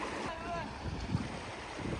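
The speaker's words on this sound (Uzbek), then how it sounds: "Suvda skuter ketyapti mana." An L9 scooter drives through water, producing a continuous rush of churning water mixed with heavy wind noise on the microphone, fairly loud and steady.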